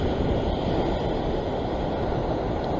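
Sea waves crash and wash continuously on a rocky shore where fishing is under way, a dense, steady roar of surf with no voices.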